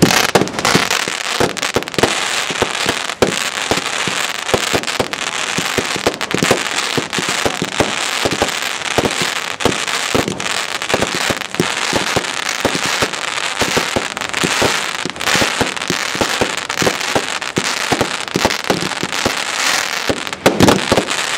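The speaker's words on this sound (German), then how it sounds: "Finale Batterie, 30 Schuss," A calibre 30 fireworks finale battery of 30 shots fires a dense, rapid barrage of loud bangs and crackling bursts that continues without pause from start to finish.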